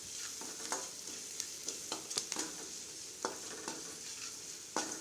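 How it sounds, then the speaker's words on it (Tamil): Curry masala, chili powder and salt being sautéed in a pan for a bottle gourd stir-fry: a soft steady sizzle with scattered scraping stir strokes, close and fairly quiet, with no talking. "லைட்டாக 2 வணக்கிட்டு காயை உள்ளே போட்டு நல்லா வணக்கிடலாம்"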